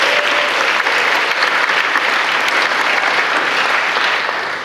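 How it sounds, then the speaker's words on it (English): A crowd at an awards ceremony applauds steadily, a dense wash of clapping that holds at full strength throughout and fades only slightly at the very end, with no speech over it. "can we give them a round of applause, please?"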